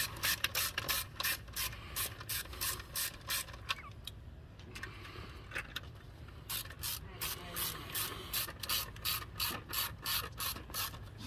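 A ratchet clicks rapidly in steady bursts while bolts on a Dodge Caravan 3.6 plastic intake are snugged down, a short pause breaking the rhythm before the clicking resumes, close and fairly quiet.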